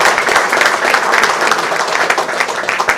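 A crowd at a fundraiser breaks into applause, dense and continuous clapping that fills the room at close range for several seconds, with no voices above it.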